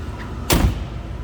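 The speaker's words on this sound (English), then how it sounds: "Door closes nicely." Door of a 1984 Ford Mustang GT350 with a 5-liter V8 swinging shut, one solid thud midway through a quiet moment.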